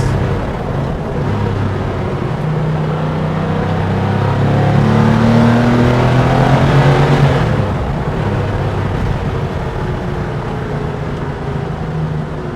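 A 1992 Porsche 911 (964) Carrera RS Clubsport engine revs hard as the car accelerates on a twisty road, heard from inside the cabin. The engine note climbs steadily, loud and continuous, then drops back to a steady drone as the car eases off.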